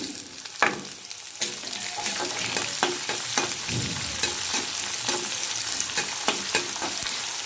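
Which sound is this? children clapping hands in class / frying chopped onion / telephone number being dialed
frying chopped onion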